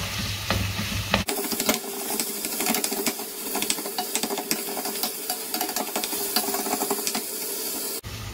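Chilli con carne stirred in a pot, a steady close sizzle with repeated scraping spoon strokes running throughout, loud and continuous with no talk.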